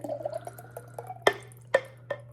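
Old-fashioned mustard dressing made with vinegar is poured into a container, giving soft wet drips and a few sharp clinks of the container, quiet and close, with no talking.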